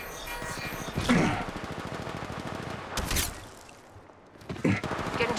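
Gunfire in the mobile shooter Apex Legends Mobile, with rapid automatic bursts and a sharp heavy shot near the middle, layered over busy game noise at moderate loudness.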